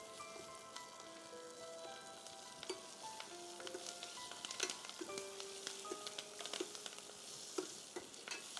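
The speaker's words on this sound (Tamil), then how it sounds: "இது எல்லாமே வந்து மொத்தமாக போட்டு அதை வதக்கி எடுக்கிறதுக்கு தேவையான அளவு நல்லெண்ணெயில் தான் வதக்கி எடுக்கணும்." Chopped vegetables sauté in sesame oil in a pan, giving a continuous soft sizzle with scattered crackles and occasional stirring scrapes, steady and close with no talk.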